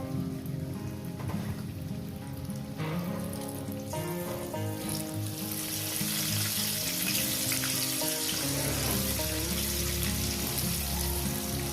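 Potato pieces frying in hot oil with salt and turmeric, a dense, steady crackling sizzle that stays close and loud the whole time and swells a little partway through, with no speech over it.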